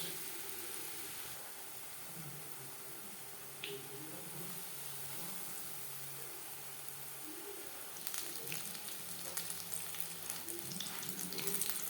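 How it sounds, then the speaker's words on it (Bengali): Quiet, even sizzling of Pabda fish frying in hot oil over a medium flame that grows louder and more crackly toward the end, with a soft tap midway. "মাছ ভাজবো মিডিয়াম ফ্লেমে তেল গরম হয়ে গেছে এবার দিয়ে দেব মাছ"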